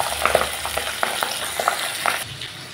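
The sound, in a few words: frying pabda fish in a pan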